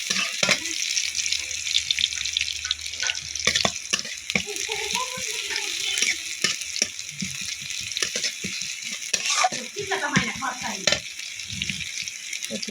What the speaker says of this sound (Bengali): রসুন কুচি দিলাম, এটাকে ভালো করে নাড়াচাড়া করে নেব।